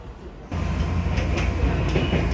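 A Hakone mountain railway train at Hakone-Yumoto station in Japan starts up abruptly with a loud, steady rumble and clatter that holds close and continuous to the end.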